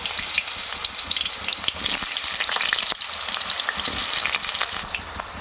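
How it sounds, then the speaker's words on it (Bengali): Potatoes frying in hot white oil in a wok, a steady close hissing sizzle with crackles and occasional stirring scrapes throughout. "প্রথমে আমি আলুগুলো ভেজে নেব।"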